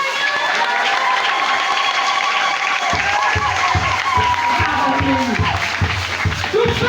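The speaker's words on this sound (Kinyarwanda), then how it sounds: "iyo mubyumva nawe mwikomeye amashyi" A church congregation breaks into loud sustained applause during a Christmas-season prayer service, a continuous roar of clapping with a preacher's voice coming in over it partway through.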